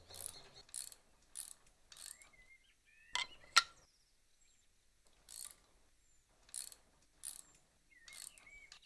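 Wrench tightening bolts on an awning wall bracket mounted to a wall, a series of short ratcheting clicks in irregular bursts, close and fairly quiet, with pauses between strokes and no speech.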